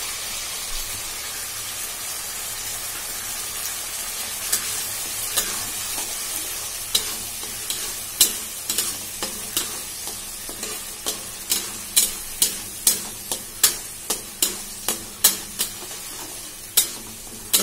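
Tomato fries in a pan with a soft continuous sizzle while a spatula scrapes and knocks against the pan, starting sparse and becoming a quick regular rhythm of sharp close strikes.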